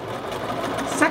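A sewing machine stitches through a men's shirt collar while the fabric is pulled under pressure, giving a steady continuous motor hum at close range, with a faint voice partly over it.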